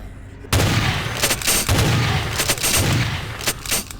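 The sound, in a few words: shotgun firing in Vampire: The Masquerade Bloodlines video game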